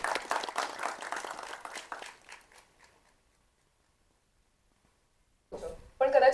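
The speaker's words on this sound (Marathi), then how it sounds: "एकदा जोरदार टाळ्या त्यांच्यासाठी वाजवूया" Audience applause at a film trailer launch event rings out loudly at first, then thins and fades to silence over a few seconds before a voice speaks briefly near the end.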